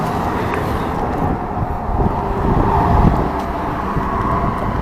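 Steady roadway noise in Punta Gorda, Florida, with a car rushing past, swelling briefly in the middle, mixed with wind buffeting the microphone.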